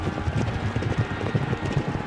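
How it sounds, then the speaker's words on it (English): Racehorses gallop down the final stretch in the Derby Owners Club arcade racing game, with rapid, rolling hoofbeats pounding steadily under a race commentator's voice. "Now they're in the final stretch, galloping, showing their heart."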